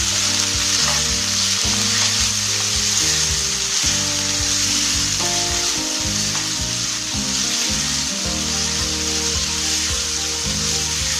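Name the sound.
ginger garlic frying in pan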